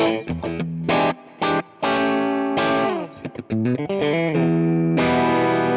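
Distorted electric guitar, a PRS SE Studio Standard on its humbucker pickup, played alone: chugging palm-muted notes and ringing chords with short gaps between phrases, loud and close.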